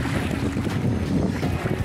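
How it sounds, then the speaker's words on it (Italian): Steady wind at sea during a kayak circumnavigation of San Pietro Island, a continuous rushing roar with low buffeting gusts against the microphone and choppy water beneath, with no talk. "C'è un vento che non ci convince, un mare che non ci convince"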